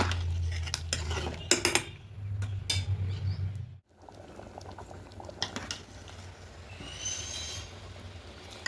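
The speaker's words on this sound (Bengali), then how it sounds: "এবার এরকম মাঝে মাঝে একটু নেড়ে দেবো আবার রাখবো" A pot of three-lentil rice khichuri bubbles and simmers while a spoon clinks and scrapes against the pot in short bursts of stirring, with a low steady hum underneath and a brief pause midway.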